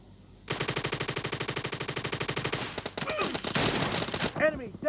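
An UZI submachine gun firing in a warehouse map of a team shooter game: a long, evenly spaced automatic burst, then choppier shots mixed with a game announcer's voice.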